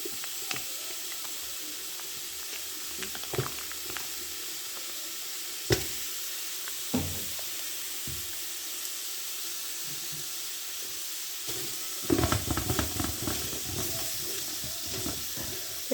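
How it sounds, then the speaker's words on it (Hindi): Onions browning in hot ghee in a large pot for a 2 kg matar biryani: a steady soft sizzle and hiss throughout, broken by occasional knocks and scrapes of stirring and a louder burst of crackling near the end. "तो अब हम इसमें डाल देंगे घी और प्याज को कर लेंगे ब्राउन।"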